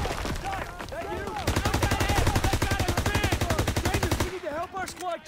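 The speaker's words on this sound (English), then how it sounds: "Gunfire! We must be near our guys." Rapid sustained bursts of automatic gunfire in a World War II video game, loud and rhythmic, with shouted voices before and after the volley.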